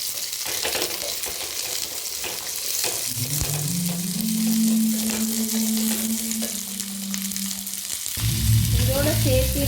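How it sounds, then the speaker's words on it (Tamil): Vegetables with tomatoes sauté and sizzle in a hot pan, a steady close frying hiss with stirring scrapes, while a low tonal hum runs through the middle and a brief clatter comes near the end. "நல்லா வதங்கட்டும்."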